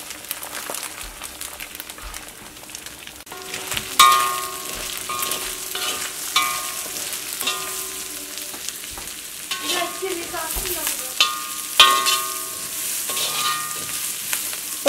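Cooked beef frying in a pan with green chili, ginger, garlic and onion, a steady broadband sizzle with scraping stir strokes and clinks that grows louder once the ingredients go in, running without talk.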